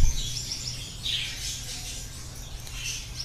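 Yellow and blue Gouldian finches give several high, thin chirps and tweets, fairly close, over a steady low background hum.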